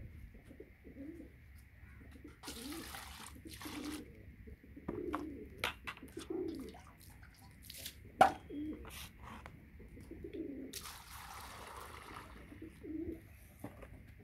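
Domestic pigeons coo in a home loft, soft rolling calls repeating throughout with a few sharper bird sounds and brief clatter, moderately near and steady, no talking.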